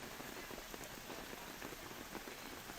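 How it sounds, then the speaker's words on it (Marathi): Heavy monsoon rain pours down in Nalasopara, a dense, unbroken hiss of drops hitting surfaces, loud and steady throughout with no voices. "नालासोपाऱ्यामध्ये मागचे 3 दिवस मुसळधार पाऊस अजूनही सुरूच आहे"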